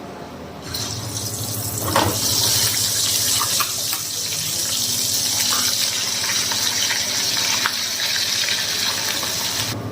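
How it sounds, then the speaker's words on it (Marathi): Masala paste of garlic, ginger and cumin sizzling in hot oil in a pan, a steady loud hiss and crackle running continuously throughout. "तर आता हा मसाला आहे ना तेलामध्ये टाकून देते"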